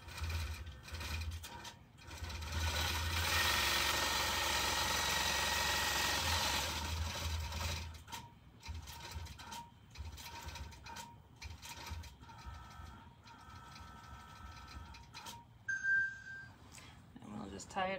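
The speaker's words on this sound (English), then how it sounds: "So it's going to do the stitching that we just threw out." Sewing machine stitching a design onto wool felt fabric, a fast whirring mechanical rattle that runs loud for several seconds, then turns into shorter, quieter bursts of stitching.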